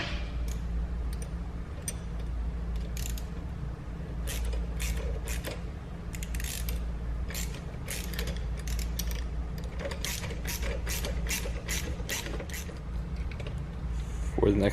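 A bolt and lock nut are ratcheted tight on a GY6 scooter muffler hanger, giving bursts of quick ratchet clicks alongside a low steady hum.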